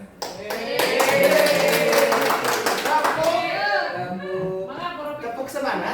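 Group of teachers clapping a Pancasila student profile rhythm clap, a dense burst of hand claps filling the space with voices chanting and talking over it throughout.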